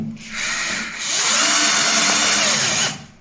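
An Einhell TE-CD 18 Li E cordless drill driving a screw whines loudly and steadily, starting briefly, pausing a moment, then running again for nearly two seconds before stopping.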